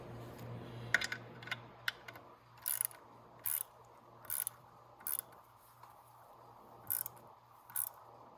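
Sharp, repeated ratcheting clicks come in short bursts with quiet gaps as the kick start assembly on a Venom Roma 50cc scooter is tightened.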